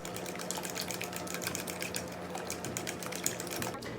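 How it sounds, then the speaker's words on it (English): Fork whisking two eggs in a bowl, a quick run of light rhythmic clicks and taps against the dish, fairly close and quiet, with no voices. "I'm going to take a fork and kind of just mix that all together"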